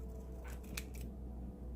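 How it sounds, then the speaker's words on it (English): Small manicure scissors cutting paper for stickers, a few quick close snips clustered over a steady low hum. "So it's just a small little scissors."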